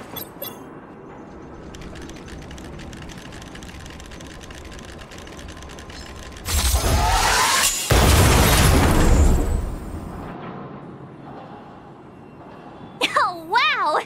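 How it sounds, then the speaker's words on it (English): Explosion in the video game Honkai: Star Rail: a low mechanical rattle builds, then a heavy booming blast with crackling debris swells for several seconds and fades, followed by brief synthetic chiming effects. "We wiped them all out in a single explosion!"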